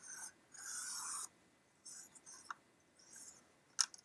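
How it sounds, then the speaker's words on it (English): A Cricut paper trimmer slices through paper for a layered card: several faint, dry scraping strokes of the blade, two longer sweeps and a couple of shorter passes, with a small sharp click near the end, in a quiet room. "I'm going to grab my paper trimmer here. This is a Cricut paper trimmer. And I'm just going to cut a little bit off of each side."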